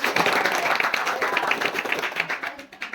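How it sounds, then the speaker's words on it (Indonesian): A group of people applauds a presenting group in a classroom or training session, steady dense clapping that carries on through the whole stretch at moderate loudness with no talk over it. "kita berikan tepuk tangan yang murah kepada kelompok inisiatif"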